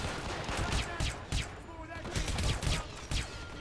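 Gunfire in the stealth game Hitman, a rapid crackling of repeated shots at moderate loudness, with someone talking over it.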